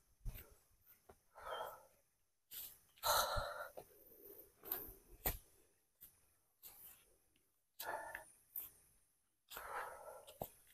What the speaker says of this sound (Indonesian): Sampai ngos-ngosan.